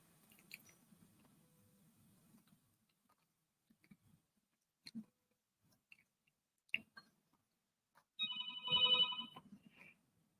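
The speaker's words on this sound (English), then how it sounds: "I keep hearing a phone ringing here" A telephone rings briefly near the end beside a hospital bed, a short bright burst following quiet stretches of faint rustling and small clicks, with a low murmur early on.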